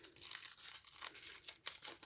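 Crepe paper wrapping is torn and crinkled off small gifts in quick, close bursts of ripping and rustling, with brief pauses between pulls.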